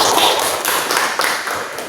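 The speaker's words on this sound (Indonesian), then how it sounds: "Tepuk tangan untuk Hasan." Classroom group applause, a quick patter of hand claps that holds steady for about two seconds, fairly loud and close.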